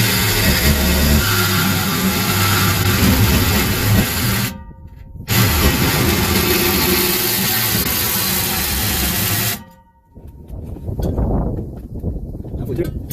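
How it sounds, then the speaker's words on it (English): A GMC truck's running engine heard up close, a loud steady rumble that cuts out twice and then returns, as if its muffler is being cut through, with no voices. "Here's my muffler, and I'm gonna do a cut right in here."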